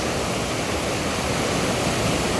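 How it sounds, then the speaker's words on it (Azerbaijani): Strong, fast-flowing river water rushing steadily at close range, a dense, even roar with no pauses and no voices. "TV çayı o qədər də böyük çay deyil. Ancaq suyu çox gürdür."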